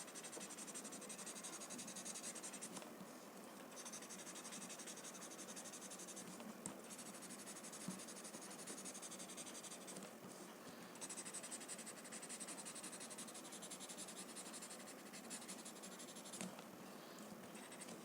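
Graphite pencil shading and blending on paper, a continuous soft, close scratching and rubbing with brief pauses between strokes, faint and steady throughout.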